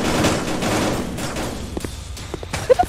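Gunfire in a VR shooter video game: a dense, rattling burst of shots fills the first half, then scattered single pops and thuds follow at moderate loudness.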